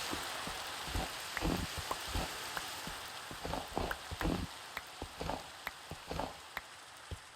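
Rain falling in a modded Minecraft world, a constant soft hiss with scattered pattering drops and light taps, faint and steady with no voices.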